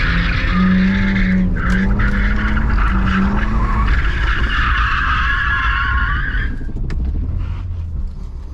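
A BMW E46 on coilovers drifts, its tires squealing loudly in long sustained screeches over a close, revving engine that rises and falls with throttle bursts, and no one speaks.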